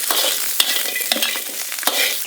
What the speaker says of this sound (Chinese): 锅里少倒点油，把猪蹄上的水分往出炒一下